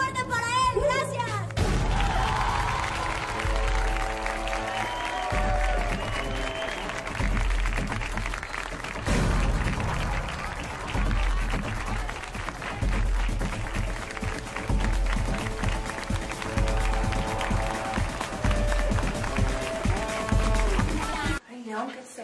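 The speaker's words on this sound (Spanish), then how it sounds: "Un aplauso muy fuerte para él." An audience applauding secretary León Bustamante at a live event, a long, dense wash of clapping and crowd noise lasting about twenty seconds before cutting off, with a voice speaking briefly at the start.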